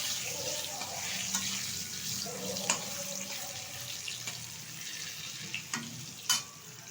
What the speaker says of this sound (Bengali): আলুটা একটু ভালোভাবে ভাজা হয়ে গেলে তুলে নেবো একটা পাত্রে।